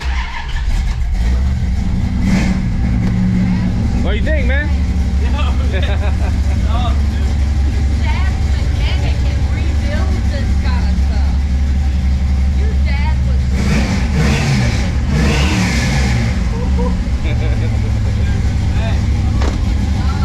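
A 1972 Dodge Charger engine idles and revs in bursts close by, a deep rumbling roar rising and falling while people talk over it.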